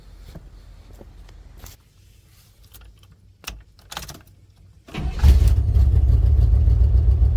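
A 1994 Chevy Blazer K5 with a blown head gasket or intake manifold, its engine cranking over briefly and then catching into a loud, steady low rumble that continues to the end, after quieter clicks and small noises.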